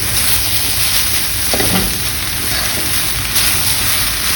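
Mee sua noodles and vegetables stir-fried in a pan over medium-high heat, giving a loud, steady sizzle that never lets up, with faint scraping from the stirring underneath and no voices.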